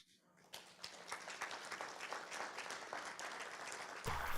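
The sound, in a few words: audience applauding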